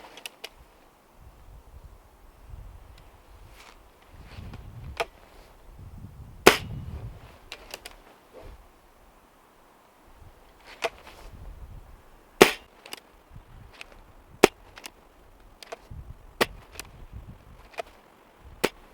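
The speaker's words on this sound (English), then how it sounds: "I've got my pellet pen loaded up with 5 shots, and we'll see how fast I can do it" A pellet pen air gun fired repeatedly by a gloved shooter: several sharp, sudden cracks spaced a few seconds apart, with quieter clicks and handling noise from reloading the break barrel between them, close up and with no talking.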